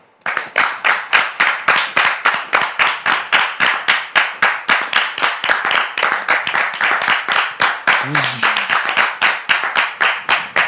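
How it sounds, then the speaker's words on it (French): A television studio audience claps in near unison, loud, regular rhythmic beats of many hands about three per second, sustained throughout, with a brief voice cutting in faintly partway through. "Sous vos applaudissements."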